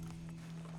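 Steady hoof clip-clop of a horse in Red Dead Redemption 2, rhythmic and close, over a constant low hum; no talking.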